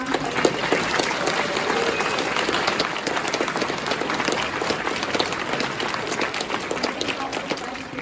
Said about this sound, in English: Give a round of applause for Pam.